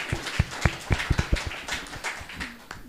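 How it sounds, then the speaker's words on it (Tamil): Scattered, uneven hand claps from an audience at a church Christmas program, a dozen or so sharp taps in the first half that thin out and fade, fairly close and moderately loud. "எல்லாரும் கைத்தட்டி உற்சாகப்படுத்துவோம்"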